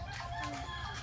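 A chicken clucking close by in a short, loud burst of rapid calls, heard alone without talk.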